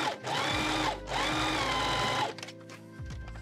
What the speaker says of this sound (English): just keep sewing all the way up to the other side